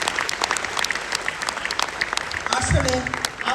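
An audience at a stage drama about Rumi's life breaks into applause, a lively spread of claps filling the room, with a voice speaking over it near the end.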